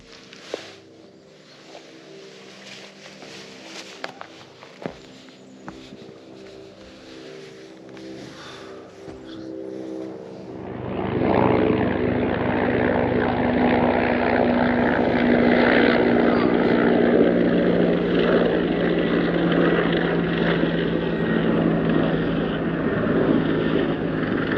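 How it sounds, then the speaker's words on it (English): Quiet surroundings in Norway give way to the loud, sustained engine roar of a dark green military helicopter passing close overhead and drowning out everything else. "That helicopter was dark green there."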